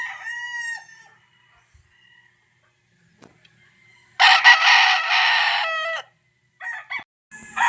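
Gamefowl roosters on a farm in Tanauan, Batangas, crow loudly at close range in a long full crow, with shorter crows and clucks around it. Quiet gaps separate the calls and no one speaks.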